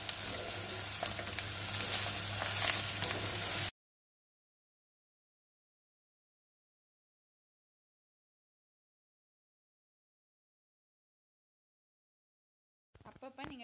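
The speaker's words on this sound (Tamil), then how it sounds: "இப்போ இதில் இருக்கிற எண்ணெயில் இந்த பீட்ரூட் வதங்குற வரைக்கும் நாங்கள் அப்பப்போ கிளறி கிளறி இதை விட போகிறோம்" Beetroot frying in oil and stirred now and then, cooked for a Jaffna-style Sri Lankan beetroot curry. A steady, close hiss of sizzling lasts about four seconds, then silence, with a voice speaking briefly at the end.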